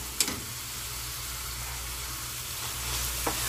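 Hot freshly cooked rice sizzles in a pan with shrimp and egg for fried rice, a soft even frying hiss with a couple of faint utensil taps.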